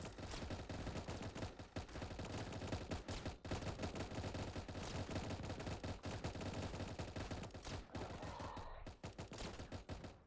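Turret gunfire in a video game, a dense rapid stream of shots and impacts that runs almost without pause, quiet overall.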